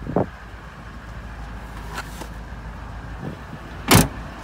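A door on a 2010 Toyota Sahara is opened, giving a few short clicks and knocks followed by a sharp latch thump near the end, close by against a low background hum.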